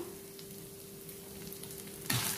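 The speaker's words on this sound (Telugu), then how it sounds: "వీటినంతా కలుపుకుంటూ ఎండుమిరపకాయలు వేగేంత వరకు 1 నిమిషం వేయించుకుంటే సరిపోతుంది" Fenugreek, cumin, coriander seeds and dried red chillies dry-roasting in a pan for Andhra ginger chutney, giving a steady soft crackle with a brief louder rustle of stirring near the end.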